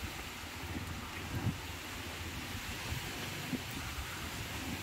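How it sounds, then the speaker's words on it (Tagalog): Strong typhoon wind roaring in a steady, dense wash with rain mixed in, buffeting the microphone with low rumbling gusts, continuous and loud with no talk. "Grabe lakas ng hangin"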